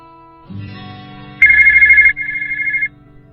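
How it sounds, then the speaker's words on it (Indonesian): A phone ringtone plays close by: a low buzzing tone, then a bright electronic ringing melody in two phrases. "Suara telepon di ponsel Brian"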